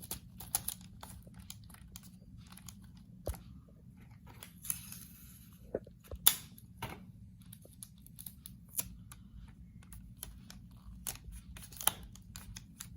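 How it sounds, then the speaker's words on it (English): Adhesive tape is pulled off the roll and pressed down while a hydraulic lift is being secured, with short sharp rips and crackles in scattered bursts over a quiet background, close by and with no talking. "You can put as much tape as you need to make sure it's tight and secure"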